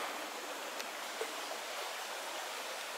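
A small stream winding past a bivouac site on a summer bike tour, a steady broadband rush of flowing water with no talk over it.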